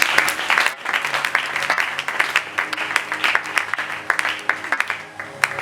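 A church congregation bursts into sustained, loud applause for Jesus, dense rhythmic clapping filling the room with a few sharper claps standing out, and a brief dip before the crowd carries on clapping.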